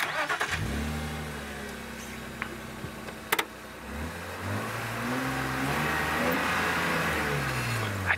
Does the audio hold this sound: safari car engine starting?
yes